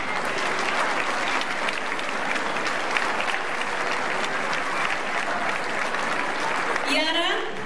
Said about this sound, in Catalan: Aplaudiment a totes.